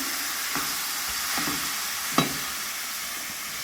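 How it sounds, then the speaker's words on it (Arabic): Onion drops into heated oil for an eggplant dish and fries with a steady hissing sizzle, broken by a few soft stirring scrapes and one sharper knock from the utensil. "ونخوض هذا من بعد ما سخنات لنا الزيت. غادي نزل البصله ديالتي"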